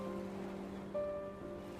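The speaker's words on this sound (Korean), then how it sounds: "마침 딱 좋은 파도가 밀려오길래" Gentle ocean waves rolling in on a beach in the game Love and Deepspace, a soft steady wash of surf with a faint sustained tonal layer of game music over it, no talking.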